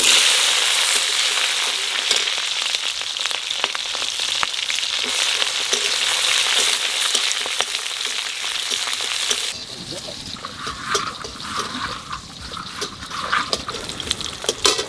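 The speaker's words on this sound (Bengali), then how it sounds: "লঙ্কাটা ভাজা হয়ে গেছে" Green chillies frying in oil alongside cumin and bay leaf hiss loudly and steadily up close, and the sizzle drops away to a quieter crackle partway through.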